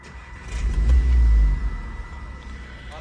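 Seat Leon Cupra car engine starting with a single deep, close rumble that swells briefly and then settles into a lower idle.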